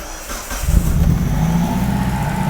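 Spark tester set to 20 kV crackling as the spark jumps its gap on a running 1995 Mitsubishi Libero with a suspected faulty distributor, a steady fast ticking buzz layered over the close, rumbling idle of the engine.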